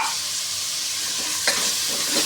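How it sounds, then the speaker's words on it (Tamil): Rice being sautéed and stirred in a hot pan with a little salt for a dal-style rice dish, a steady sizzle with scraping stirs and a sharper clank near the middle, alone without talk. "இது ஒரு 2 நிமிஷம் கொஞ்சம் நல்லா வதங்கட்டும். கிளறி விட்டுட்டு மூடி வச்சுருங்க, வதங்கட்டும்."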